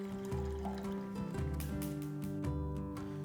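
Water pours into a pan to make a coffee syrup, a soft continuous trickle that fills the short stretch under steady tonal background music.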